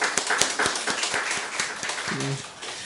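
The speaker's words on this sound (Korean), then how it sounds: "우리 박수 한번 하겠습니다" A church congregation at a Sunday service in Bucheon claps together, a loose run of sharp hand claps in a reverberant hall, fairly faint and brief.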